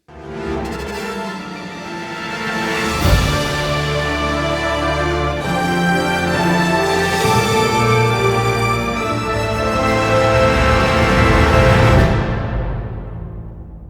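Sweeping orchestral music with booming percussion hits, sustained strings and brass building to a grand swell before cutting off.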